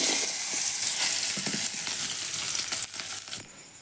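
Sliced onion dropped into oil already used for frying fish, sizzling and crackling in a steady, fairly loud hiss with scattered pops and stirring scrapes, tapering off near the end.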